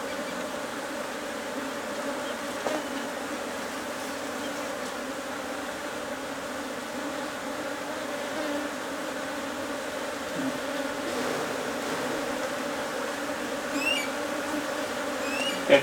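A swarm of Africanized honey bees buzzes steadily and densely during a swarm capture, a continuous close hum with no breaks and no talking.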